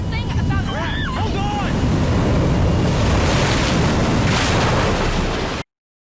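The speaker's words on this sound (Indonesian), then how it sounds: "badai besar datang dan mengombang-ambingkan perahu karet mereka" A violent storm at sea batters a rubber boat, with roaring wind gusts and crashing surf forming a loud, continuous rush, while high cries rise briefly near the start before the sound cuts off abruptly.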